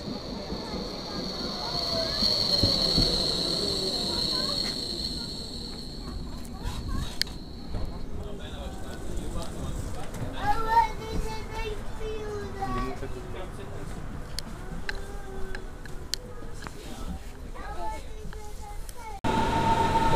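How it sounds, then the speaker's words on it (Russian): A German tram running through Berlin, with rolling wheel rumble, metallic squeals and hums as it moves; children's voices and other chatter mix with the street and rail noise throughout. "Вот это немецкий трамвай."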